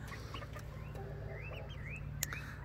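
Easter Egger hens, about 12 weeks old, cluck and give short rising calls over a steady low mechanical hum, with a sharp tap near the end.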